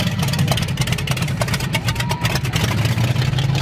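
A Chevy 454 V8 with dual 600 CFM carbs running through open headers, a loud, close, rough idle with a rapid lumpy pulse and slight revving, heard alone.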